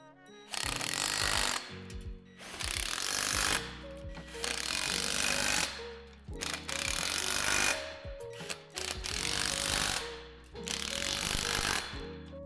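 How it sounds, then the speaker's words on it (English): Bolts are tightened around a Lifetime 66-inch climbing dome in bursts of ratcheting tool noise, about six loud mechanical runs with short quiet gaps between them, close up. "Go around the dome and make sure all the hardware is tight."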